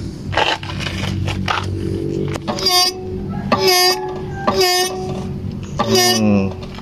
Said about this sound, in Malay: Brake pad ni dah nipis dan dia akan bunyi macam ini.